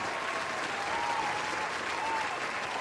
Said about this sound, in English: I could just give myself an applause for that.